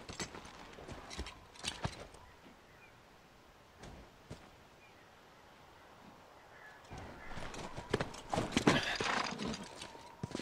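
Horse hooves clip-clop in the video game The Last of Us, with whinnies and neighs breaking through; the hoofbeats are moderate and irregular, growing busier and louder toward the end.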